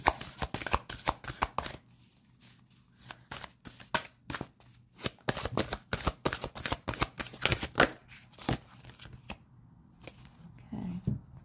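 Tarot cards shuffled in a quick run of riffling, slapping bursts, with short pauses between handfuls and no speech, close and fairly quiet.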